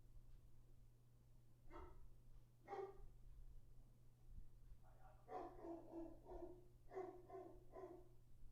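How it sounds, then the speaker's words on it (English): A dog barks indoors, a couple of single barks followed by a quicker run of several barks, moderately close, over a steady low electrical hum. "I got to see what the dog's barking about."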